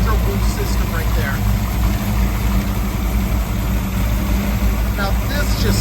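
The engine of a 1960 Chevrolet El Camino with tubular headers idles steadily, a low rumbling drone that is loud and constant throughout, with a voice talking faintly over it.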